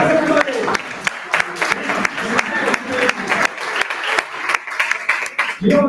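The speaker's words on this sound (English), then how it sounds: "Give them a big round of applause" An audience at a business talk bursts into applause, with scattered claps rattling under voices and cheers, fading in and out over several seconds.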